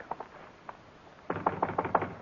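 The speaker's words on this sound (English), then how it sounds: "We'll knock." Knocking on an office door in a radio drama, a few faint taps followed by a louder close series of about six firm raps.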